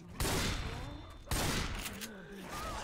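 Gunfire in Left 4 Dead 2 comes as two sharp, loud bursts with echoing tails, while voices talk underneath.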